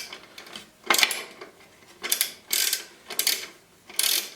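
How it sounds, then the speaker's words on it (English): A metric go-through ratchet spanner loosens a 19mm nut in five or six quick ratcheting bursts, each a close, crisp clicking rasp separated by short pauses. "That's when you would use your go-through spanner"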